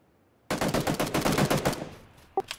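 A loud automatic burst from a gun in PUBG, a fast close string of shots lasting about a second and a half, then tailing off, with one last sharp shot just before the end.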